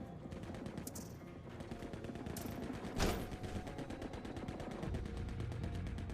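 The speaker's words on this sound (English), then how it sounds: "I hear more gunfire." Rapid bursts of gunfire in the shooter game The Forever Winter crackle steadily at a distance over a constant background hum, with one sharper crack standing out midway.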